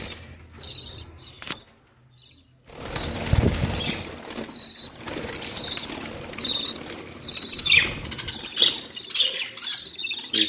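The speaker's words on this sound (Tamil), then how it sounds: "கீழே ஆப்பிரிக்கன் லவ் பேர்ட்ஸ் இருக்குது, அங்கே வந்து இப்போ குஞ்சு போட்டிருக்கு" African lovebirds in an aviary with newly hatched chicks, wings flapping in bursts and a few squawks and chirps, close and fairly loud, with a short quiet gap near the start.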